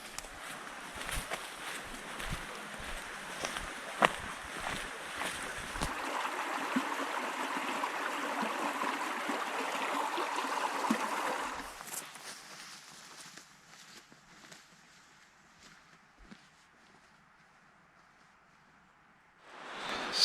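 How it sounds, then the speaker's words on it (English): Rushing creek water flows steadily nearby on a hiking trail in a nature preserve, with some footsteps, then grows quieter and more distant as the rush fades to a soft trickle. "So the first little creek that you come across is called the Jovie Creek."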